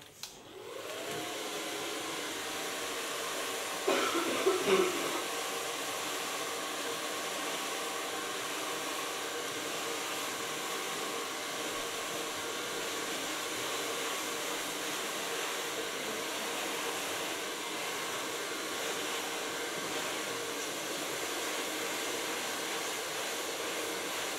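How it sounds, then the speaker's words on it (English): A Kiona blow dryer whirs to life and runs steadily with a constant loud airy hum, unchanging for a long stretch with a brief clatter early on. "Take my Kiona blow dryer"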